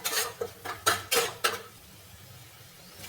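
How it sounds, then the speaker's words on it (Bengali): Ground garlic and spices being stirred in a pan for an egg dish, a spatula scraping and clanking against the metal in several quick strokes, then a quiet pause with faint background hiss. "রসুনটাকে দিয়ে আমি এভাবে নাড়াচাড়া করতে থাকবো"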